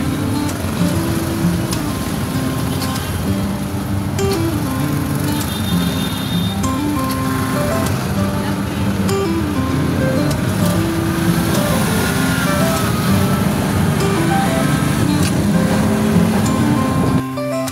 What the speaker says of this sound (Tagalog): Ito pala ay tricycle na Bajaj